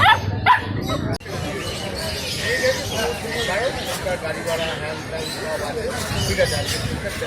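Forty-five-day-old Labrador puppies yip and bark in short bursts at the Naihati pet market, close to the microphone, mixed with people talking nearby.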